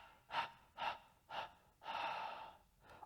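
Rhythmic breathing during a Pilates core exercise: three short, sharp exhales in a row, then a longer drawn-out breath out, close and quiet, with no talking.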